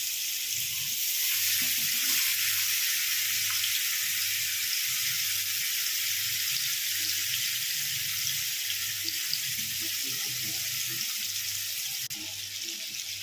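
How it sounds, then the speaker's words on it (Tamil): Fish pieces frying in a pan of oil for fish biryani, a loud continuous broadband sizzle held steady throughout, with a faint low hum underneath. "இப்போ மீன் வந்து ஒன்று ஒன்றா போட்டு நம்ம ஃப்ரை பண்ணி எடுத்துக்கலாம்"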